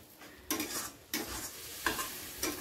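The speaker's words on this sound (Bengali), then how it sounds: "সামান্য জল দিয়ে সবগুলোকে ভালো করে একসাথে কষিয়ে নেব" Spices with water and cumin powder sizzle in a pan while a spoon scrapes and stirs, sounding as four soft scraping strokes over a steady low frying hiss.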